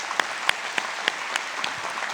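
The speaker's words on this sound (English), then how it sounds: "please give these people a round of applause" A small group at a business forum claps in scattered, separate hand claps with an irregular rhythm, fairly quiet and thin rather than a full ovation.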